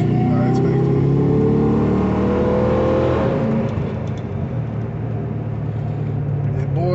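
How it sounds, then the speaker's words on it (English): A 1998 Ford Mustang GT engine revs hard and accelerates, a loud rising roar heard from inside the cabin, with a voice talking over it. "This thing actually launches pretty well."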